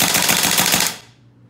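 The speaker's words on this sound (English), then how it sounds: "I'm just going to put it on fully automatic here and try it for 8 rounds per second" An Umarex H&K G3A3 gas blowback airsoft rifle fires on full auto at roughly seven to eight rounds per second, a loud, close, rapid string of cracks lasting about a second before cutting off and fading.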